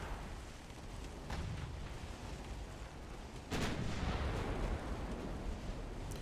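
Heavy booming salvos from a battleship's 9-inch guns in the Ultimate Admiral Dreadnoughts naval game, a few loud blasts over a continuous roaring rumble of sea and battle noise.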